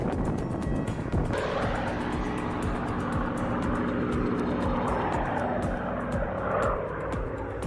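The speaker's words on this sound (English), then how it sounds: "a vintage propeller plane fights the rough dirt runway" A vintage propeller aircraft engine roars steadily at close range, with rumbling and rattling throughout, as on a rough takeoff or taxi on a dirt runway.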